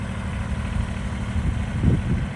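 Small Kubota B-series compact tractor fitted with a sunshade idles at a steady low rumble, close and fairly constant, swelling slightly near the end, with no talking.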